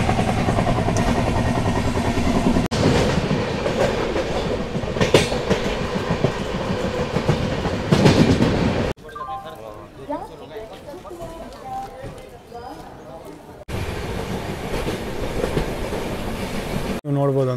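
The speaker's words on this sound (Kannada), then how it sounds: "ಇವಾಗ ಇದಕ್ಕೆ ಡೀಸೆಲ್ ಲೋಕೋಮೋಟಿವ್ ಇಲ್ಲ ಗುರು, ಎಲೆಕ್ಟ್ರಿಕ್ ಲೋಕೋಮೋಟಿವು" An electric locomotive hauls the Rani Chennamma Express sleeper train from Bengaluru toward Sangli, its loud steady rumble and rail clatter running throughout, dropping quieter midway before returning, with speech heard over it.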